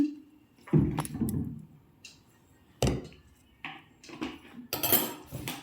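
Creamy protein salad being tossed in a bowl with ground cashew, bursts of clinking utensil-on-bowl scrapes and knocks coming in irregular clusters, close and moderately loud, with quiet gaps between.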